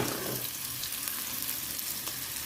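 Steady sizzling of garlic, onion and mustard seeds frying in hot coconut oil in a pan, a continuous crackling hiss with small pops, close and without voices.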